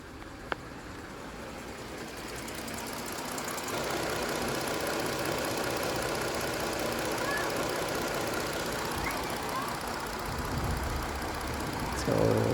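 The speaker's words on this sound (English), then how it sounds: "So now the car is running." A 2018 Chrysler Pacifica, one that had been throwing misfire codes, idles with a steady, even engine hum that holds at a constant level from start to finish, with no voices over it.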